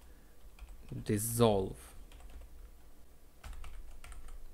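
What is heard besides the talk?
typing on a computer keyboard while writing code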